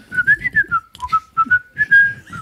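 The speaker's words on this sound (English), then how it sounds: "He whistled as he strode away." A man whistles a wandering tune alone, a clear, close melody of short rising and falling phrases with brief pauses between them.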